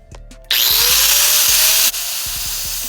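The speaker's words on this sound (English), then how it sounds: "This is a grinder, which is not recommended by manufacturer instructions." A handheld angle grinder cuts through a window screen frame with a sudden loud high-pitched shriek that holds steady, then drops lower as the cut eases, over faint knocks and handling noise, with no talking.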